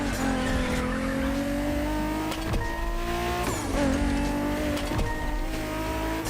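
A BMW Z4 M40i roadster in The Crew Motorfest drives hard with a loud, close engine note that rises through the gears, marked by several sharp shift drops and tyre squeal.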